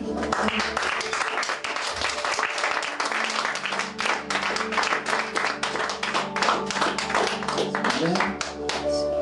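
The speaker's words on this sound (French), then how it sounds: "Acclame pour le Seigneur." A church congregation claps steadily and loudly through a worship moment, with music and voices mixed in under the applause.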